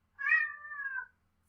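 One clear, drawn-out cat meow, fairly close, stands alone against near silence.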